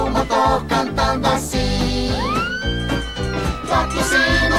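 A fire engine siren wails in rising sweeps within a children's show song, heard over a bouncy rhythmic backing track.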